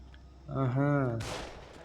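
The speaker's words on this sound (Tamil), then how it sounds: "என்னங்க கன் பிளாஸ்டிங் சவுண்ட்லாம் கேட்குது" A single sharp gunshot bursts out in the video game Far Cry 3, right after a short stretch of a voice speaking.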